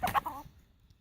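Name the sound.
rooster clucking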